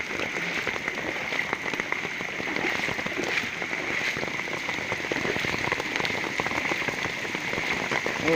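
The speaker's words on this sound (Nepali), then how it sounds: "ओहो ल हेर्नुहोस् कत्रो भल आइरहेको छ पोखरीमा" Floodwater rushing into Begnas lake during heavy rain, a dense, continuous hiss of pouring water and rain close by, steady throughout with no voices.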